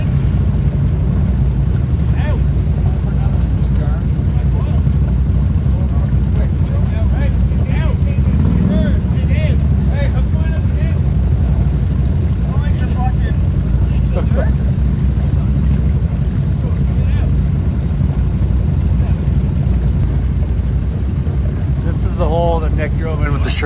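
A Sherp amphibious 4x4 drives through a swamp, its engine a loud, steady low drone with splashing and wind buffeting throughout, while faint voices talk under the noise.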